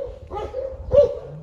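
Large dogs at an animal shelter in Delitzsch give two short barks close by over low background noise.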